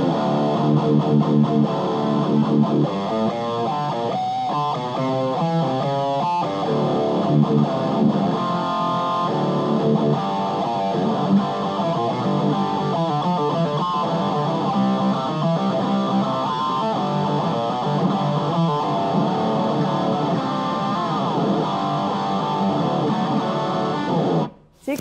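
Heavily distorted electric guitar rhythm patch on a Boss GT-1000 multi-effects unit, chugging steadily with tight, biting riffs and no feedback between notes, loud and continuous for about twenty-five seconds.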